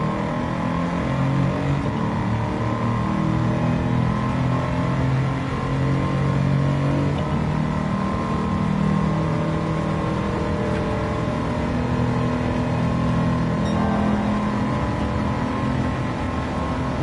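Tundra truck with a swapped engine revving in Gran Turismo 7, a steady buzzy drone with a rattly edge that holds at a constant level throughout, no voices over it.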